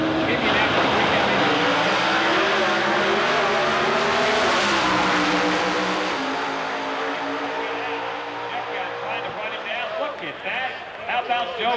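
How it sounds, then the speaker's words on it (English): Pro Stock Dodge Avenger drag race cars roar at an NHRA drag strip at Maple Grove, the loud engines rising and then fading, with an announcer talking over them. "Here comes Joe McCone, the B1 Bomber Dodge"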